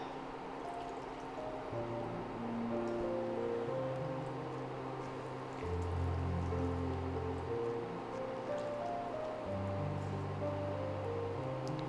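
Water in egg masala gravy boils in a pan with a soft, continuous crackling bubble like light rain, quiet and steady throughout with no talking.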